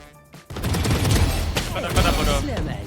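Rapid, dense gunfire in a shooting video game, loud and continuous after a brief quiet start, mixed with excited talking.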